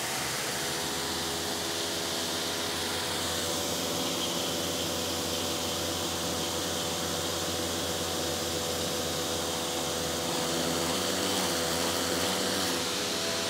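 A cleaning machine fitted with a rough nozzle drones steadily and continuously, a broad noisy whir with a low hum, holding level throughout with no talking.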